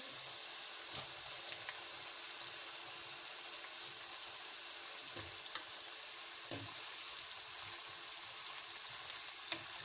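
Soft, steady sizzle of finely chopped onion frying in a pan with softened potatoes, a quiet crackling hiss with occasional sharper pops and stirring clicks.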